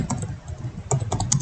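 Rapid, irregular clicks of fingers typing on a computer keyboard during data entry, close and clear with no voices.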